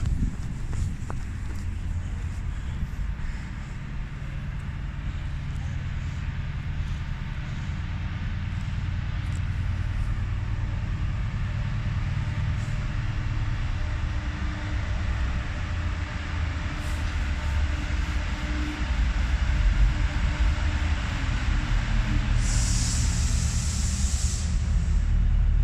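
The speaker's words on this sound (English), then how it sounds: "Oh, we've got a special train coming past." A special train rolls past the platform at Cheltenham Spa station, a steady low rumble with wheel and rail noise and wind hiss lasting throughout, close and loud.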